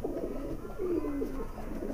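A Rampuri breeding pigeon hen gives soft, low coos up close amid quiet background noise.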